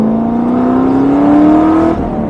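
LS3 V8-swapped Mazda ND Miata under way, a loud close engine and exhaust drone with a rising tone as it pulls, then easing off near the end.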